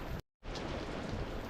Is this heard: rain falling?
yes